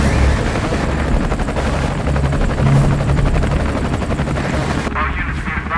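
A helicopter in an action movie scene near Fort Duquesne Bridge during a police and SWAT hostage pursuit, heard as loud, continuous rotor chop with steady thumping pulses that drops away abruptly near the end.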